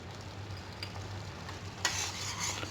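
A spoon stirs a simmering curry gravy with ginger garlic paste and garam masala for stuffed potato curry, soft sizzling under scraping strokes, with a sharper clatter of the spoon against the pan near the end.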